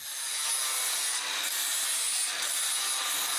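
A hand file works over a wrought iron stair railing in a workshop, reaching spots a grinder can't. The rasping is continuous and steady, close and fairly loud, with no one speaking.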